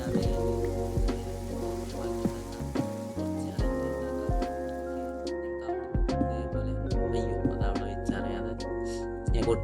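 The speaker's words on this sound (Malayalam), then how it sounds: "ഇപ്പോൾ രാത്രി ആയതുകൊണ്ട് മഴയും പെയ്യുന്നുണ്ട്" Rain pours steadily at night in the Minecraft video game, a continuous hiss of falling drops underneath sustained background music with repeated plucked notes.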